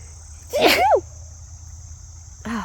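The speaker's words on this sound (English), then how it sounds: "And oh no, I'm going to sneeze." A single loud sneeze bursts out close up, followed by a brief quiet and the start of another sound.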